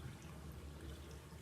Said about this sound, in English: Wring out the excess water.